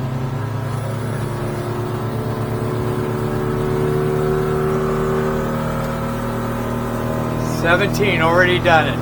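Outboard motor on a 2023 Hewescraft 250 Alaskan hardtop boat running steadily under load as it accelerates onto plane, a loud continuous engine drone with a voice speaking over it near the end.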